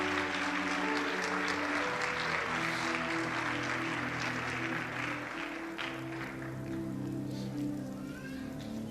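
A church congregation applauds as people take their seats during a Pentecostal sermon, a sustained wash of clapping over low sustained music that fades slightly toward the end.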